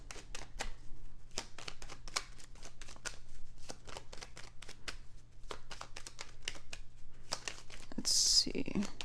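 Tarot cards are shuffled and pulled by hand, giving a quiet run of soft, rapid flicks and papery snaps up close, with a brief crinkle near the end.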